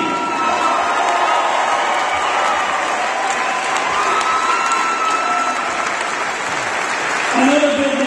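Crowd applause and cheering at a college basketball selection show watch party, dense and sustained clapping with whoops and a few voices rising near the end.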